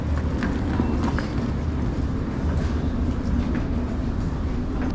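A London Underground Metropolitan line train runs along at steady speed, heard from inside as a loud continuous rumble with rattling and faint clattering of the carriage.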